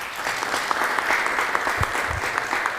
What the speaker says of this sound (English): Let's run another round of applause for Igor.